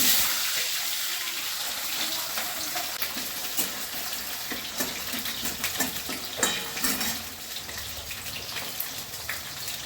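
Potatoes hit hot mustard oil in a pan already seasoned with cumin, garam masala and bay leaf, giving a steady loud sizzle and hiss with occasional stirring clatter and no talking.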